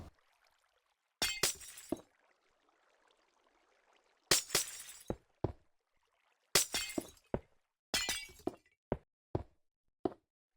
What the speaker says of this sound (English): we're going to break all the glass blocks that we just placed